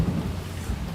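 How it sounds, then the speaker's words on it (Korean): Rain falls steadily outside, heard from indoors as a constant soft wash with a low rumbling undertone and no break. "빗소리 좋아요?"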